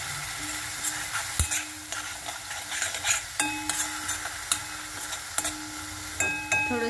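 Spice paste for chole frying in a pan, with a steady sizzle broken by regular scraping and clinking taps of a spoon stirring against the metal, close and fairly loud with no talking.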